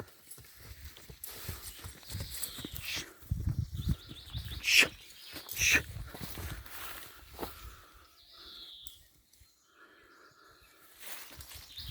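Hooves of a mare and foal clop irregularly on the ground nearby, mixed with rustling, scattered animal sounds and a few bird calls, fading to quieter moments.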